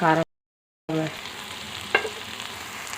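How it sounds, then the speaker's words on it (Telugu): A pot of bobbara bean curry simmers with a faint, low sizzle after chili powder goes in, with a single clink of a stirring spoon, following a brief humming tone that cuts out into a moment of silence. "కారం వేసి కలుపుకొని ఒక 2-3 సెకండ్ల వరకే ఉంచుకోవాలండి"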